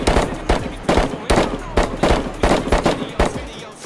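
Rapid bursts of gunfire in DayZ, a survival video game, crack out in quick irregular volleys, loud and close, with short gaps between clusters of shots.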